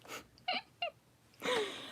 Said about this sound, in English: And I think you can hear somebody screaming outside.